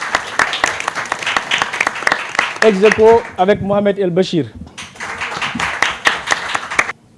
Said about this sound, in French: que je vous demande d'accueillir bien sûr avec des sacs d'applaudissements